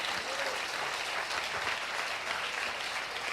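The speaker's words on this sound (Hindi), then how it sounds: "जोरदार तालियां खुदा उनके लिए बजाएं" A church conference audience claps loudly and continuously, a thick wash of many hands with no pauses throughout, with faint crowd murmur mixed in underneath.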